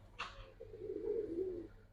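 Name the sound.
Giribaz pigeon cooing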